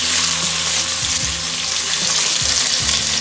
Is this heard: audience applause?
no